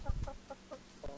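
Short clucks from a chicken in the survival game Ark, about four brief calls spaced across a second, moderately loud with a low thump at the start.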